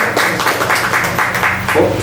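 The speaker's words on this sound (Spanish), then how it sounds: "Un aplauso." Audience applause during a talk on rock music in 1960s Oaxaca, a moderate steady clapping from a small crowd lasting about two seconds, fairly close and unbroken.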